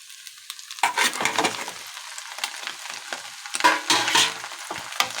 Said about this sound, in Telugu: పాస్తా వేసేస్తున్నాను.